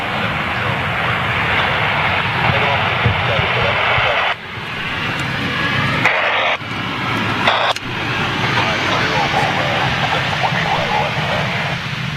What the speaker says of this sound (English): this is a Vueling A320 inbound from Malaga